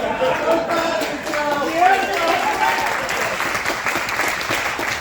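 Audience applause at an improv comedy class showcase, a steady, dense round of clapping from a room full of people, close and loud throughout with voices mixed in.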